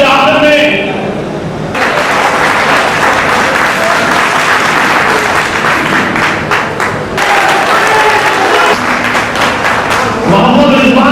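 Loud, sustained audience applause fills a press conference held by the All India Pasmanda Muslim Mahaz, a dense wash of clapping hands that rises and settles in waves with no clear voices above it.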